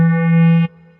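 A SignVibes Nano synthesizer voice on a Korg Drumlogue drum machine holds a single bright, buzzy sustained note, then cuts off abruptly into a quieter decaying tail.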